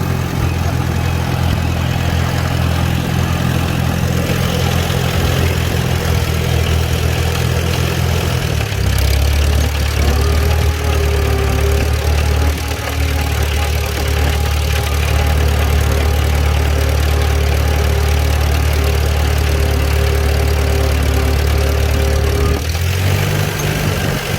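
A Farmall B tractor runs steadily in second gear while cultivating with tender plant hoes, its engine a continuous loud drone. Mid-clip the pitch drops to a deeper, heavier rumble, and it rises again near the end.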